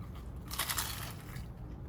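A single crunchy bite into fried food, a brief close crackling crunch against a quiet room background.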